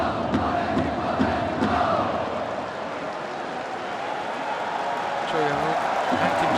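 A football stadium crowd at a Seoul versus Bucheon K League 1 match roars and cheers steadily in the distance, under continuous play-by-play commentary.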